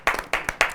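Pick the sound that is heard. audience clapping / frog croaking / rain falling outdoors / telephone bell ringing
audience clapping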